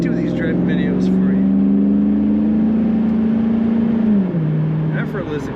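A 2002 Chevrolet Camaro Z/28 convertible with an aftermarket exhaust and automatic transmission accelerating on a wintry Minnesota road, a loud steady engine drone rising in pitch then dropping as it shifts, with someone talking over it.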